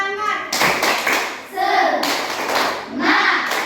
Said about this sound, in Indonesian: kita kasih tepuk semangat untuk mereka berdua